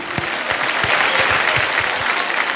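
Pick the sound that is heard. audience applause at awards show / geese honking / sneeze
audience applause at awards show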